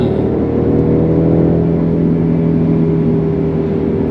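A Mercedes C200 4Matic engine revs hard as the automatic drops from eighth to third gear at once, a steady loud drone with a rising whir that holds throughout, heard from inside the cabin.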